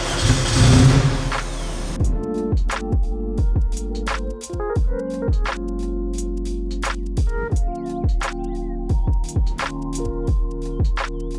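A 600 hp turbocharged Lotus engine fires up after a brief hiss, then runs at a loud, rough idle broken by repeated sharp blips of the throttle, heard close up and alone.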